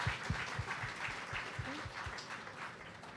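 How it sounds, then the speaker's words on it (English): A small crowd at a student debate claps steadily, a dense patter of hands at moderate volume that continues throughout without voices. "Let's give a round of applause for Ben and Ken Leonard."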